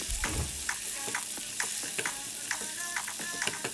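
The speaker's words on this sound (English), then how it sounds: "Now mix them very well, onions, garlic and tomatoes." Onions, garlic and tomatoes fry in a pan with a steady sizzle while a utensil scrapes and clacks in repeated stirring strokes, close and alone.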